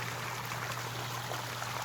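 Water running steadily at a garden waterfall in a spring bog garden, a soft continuous trickling and splashing that stays even throughout, fairly quiet and with no voices.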